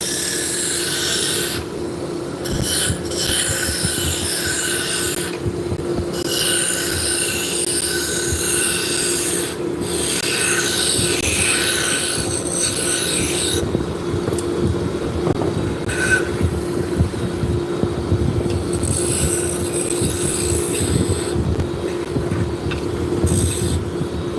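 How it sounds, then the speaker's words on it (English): A steady whirring of a spinning lathe with a continuous abrasive rubbing hiss as sandpaper works a wooden spindle, broken by brief pauses. "So that sanding operation is just to clean up this taper here."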